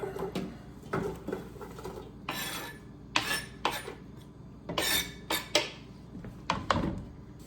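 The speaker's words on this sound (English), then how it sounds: "I'm gonna go ahead and put the onions into the pot" Onions drop into a hot pot with olive oil over medium-high heat, followed by repeated metallic clanks and scrapes of a utensil against the pot in irregular bursts, close and fairly loud.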